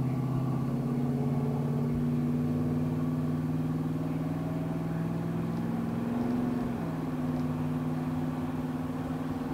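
A 1986 Chevrolet C/K 10 regular cab two-wheel-drive pickup cruises along at moderate throttle, its engine a steady droning hum that holds even and near throughout, briefly dipping in pitch as it shifts.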